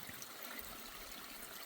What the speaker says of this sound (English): lower side of the path, which is now apparently a creek.